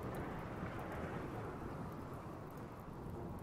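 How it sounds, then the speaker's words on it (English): A dry thunderstorm in the RimWorld video game gives a steady, dense rumble of thunder and storm noise. It stays fairly loud and unbroken for the whole stretch, with no voices. "All right, it is a dry thunderstorm"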